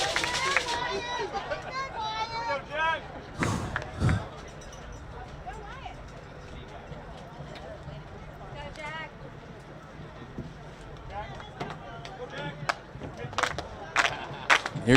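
Crowd of Frisco Reedy fans at a high school baseball game against the Longview Lobos, cheering and shouting in a steady din with bursts of louder yells, under near-continuous talk.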